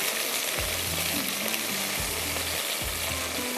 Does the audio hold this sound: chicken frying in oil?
yes